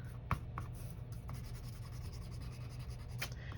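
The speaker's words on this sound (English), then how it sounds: "I am going to erase this line just in case." A pencil line is rubbed out on paper with quick, faint, close scratchy eraser strokes in short bursts against a quiet room.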